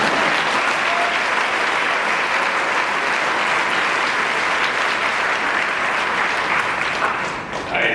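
A room full of people at an awards dinner applauds steadily and loudly, the dense clapping holding for several seconds before beginning to thin out at the end.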